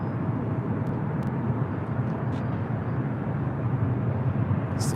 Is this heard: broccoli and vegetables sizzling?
no